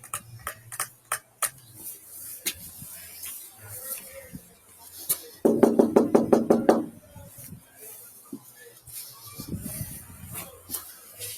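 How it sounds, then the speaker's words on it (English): A man knocks on a door: scattered single taps, then a fast, loud run of about a dozen raps, followed by quieter thuds and rustling. "Here he is again, knocking on the door."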